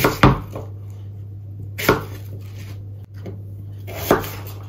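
A knife chops apple and quince on a cutting board, giving loud, isolated thuds spaced about two seconds apart over a steady low hum.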